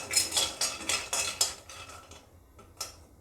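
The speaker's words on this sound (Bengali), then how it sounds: "কড়াইটাকে গরম করে নিয়ে আমি বাদামটাকে আগে ভেজে নেব।" Peanuts being dry-roasted in a heated wok for jaggery peanut brittle, with a rapid series of sharp metallic scrapes and rattles near the microphone that slow and thin out toward the end.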